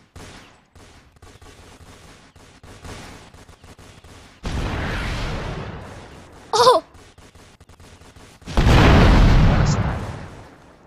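Sniper shots and a rocket launcher fire in a Roblox shooting game: sparse clicks and soft pops, then a loud burst of blasts, a sharp crack, and a longer, heavy explosion near the end, all without voices.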